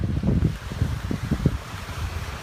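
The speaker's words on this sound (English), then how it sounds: "the waves are rough today" Rough ocean waves break and churn at a beach, heard as a close, low surging rumble that swells and fades in gusts, with wind buffeting the microphone and no talking.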